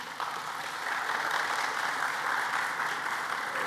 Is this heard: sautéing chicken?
no